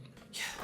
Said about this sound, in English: we have a simple breath from the singer